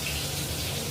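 Water pouring into a pan of spices for a hilsa head and cabbage curry, a short steady gushing rush, close and continuous.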